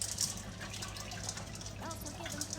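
Lemon, salt, ice and water swirled inside a tea kettle, giving a continuous close sloshing and gurgling with faint rattles of ice, steady throughout.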